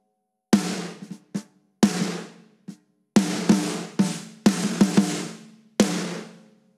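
Compressed rock snare drum hits recorded in a room, with a slowed compressor attack that leaves a sharp click on each strike; about a dozen loud, close hits in an uneven pattern with short ringing decays, no voices.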